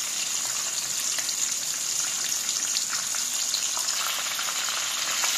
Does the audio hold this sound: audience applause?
no